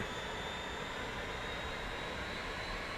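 Steady broadband roar of an aircraft engine in a flight simulator game, a continuous even drone with a faint high whine, no voices.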